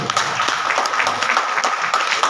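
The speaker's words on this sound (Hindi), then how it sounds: "ऐसे हमारे बड़े भाई विनय जी के लिए भी जोरदार तालियां" Crowd at a BJP executive committee meeting in Sainik Enclave breaks into dense, continuous applause, a steady wash of many hands clapping at close range for a couple of seconds.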